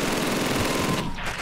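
Rapid automatic gunfire from the World War II shooter game Call of Duty 2 rattles on in a loud, dense, continuous burst that drops off briefly near the end, with no voices.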